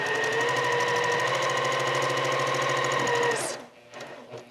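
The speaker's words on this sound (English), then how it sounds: "I'm just going to sew a nice clean 1/4 inch seam." A sewing machine runs a quarter-inch seam on quilt blocks, a fast steady mechanical whir and needle chatter held for several seconds before stopping, leaving a few soft handling sounds.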